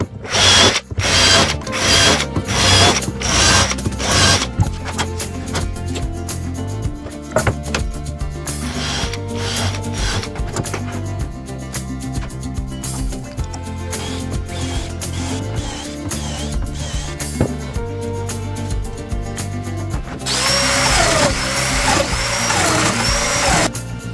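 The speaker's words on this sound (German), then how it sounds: "Jetzt kann ich die Löcher abbohren." A power drill bores holes through beech heartwood guided by a drill jig while a shoe cupboard is built, coming in repeated close, loud bursts with brief pauses and a harsher burst near the end.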